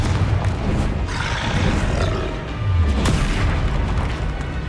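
A fiery Confringo spell blast in Hogwarts Legacy lands as a loud, sustained booming roar with deep rumbling bursts, dense and close, with no talk over it.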